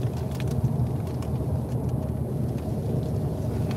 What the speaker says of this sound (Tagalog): Ay, lumakas pa ang ulan.